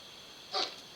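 A single short dog bark rings out at medium distance, loud and brief against steady background hiss, with no other voices present.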